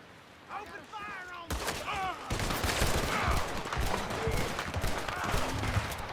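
Gunfire erupts in a Western shootout in Red Dead Redemption 2, a fusillade of shots breaking out after a brief lull and continuing densely and loudly, mixed with shouted voices and game ambience.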